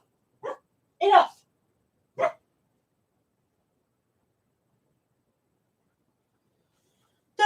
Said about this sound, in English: looks out the window and barks at next door's chickens